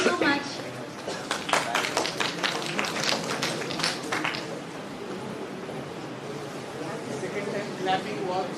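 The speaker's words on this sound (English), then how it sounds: "Clapping was really clear" An audience at a live business academy economics competition claps in a burst of sharp, dense applause that lasts a few seconds and then fades out.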